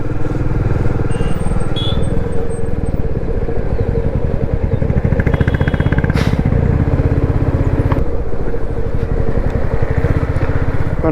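A motorcycle creeps slowly through a long, jammed road, its close, loud engine droning steadily with a rattling clatter and no letup, with no voices over it.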